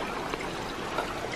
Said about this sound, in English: Whether it's the sound of the snow falling off the roofs or the water trickling